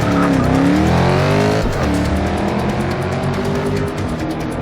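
A race car in Forza Motorsport 6 accelerates away hard, its loud engine note climbing through the gears with a brief dip at a shift and a faint tire squeal.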